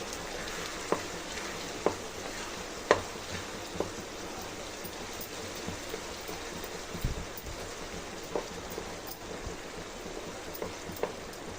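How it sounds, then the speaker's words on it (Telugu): Semolina halwa stirred in a pan: a soft, continuous cooking hiss with scattered light spoon taps and scrapes at irregular intervals, fairly quiet, with no talking. "బాగా జాగ్రత్తగా మిక్స్ చేసుకోవాలండి లేకుంటే మీద పడుతుంది చూడండి ఇలా బాగా మిక్స్ చేసుకోవాలి"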